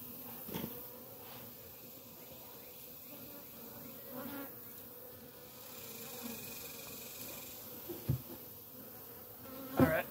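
Honeybees buzzing around open hives outdoors during a hive inspection after a swarm trap move, a steady drone of many bees with a few louder passes near the microphone and occasional handling knocks.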